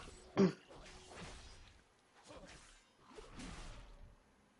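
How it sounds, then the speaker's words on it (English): A single sharp throat clearing at the start, close and fairly quiet, followed by faint breathy rustles and soft low shuffling in a quiet room. "I apologize if I keep clearing my throat."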